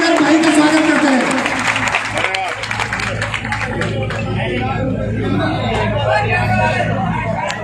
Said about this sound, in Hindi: ताली बजाकर भेज देकर भाई का स्वागत करते हैं